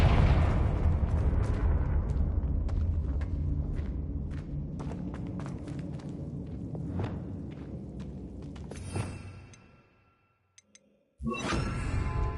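Confringo blasting spell in Hogwarts Legacy, a loud, dense burst that rolls into a sustained crackling rumble, then drops to near silence before a second sharp blast cuts back in.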